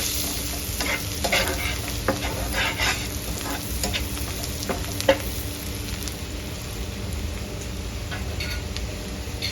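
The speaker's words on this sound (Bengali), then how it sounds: "এবার তেজপাতা, দারচিনি, লং আর এলাচ দিয়ে দিচ্ছি" Bay leaf, cinnamon, cloves and cardamom fry with softened onion in a pan for a shrimp malai curry, a continuous close sizzle punctuated by regular spoon scrapes and taps.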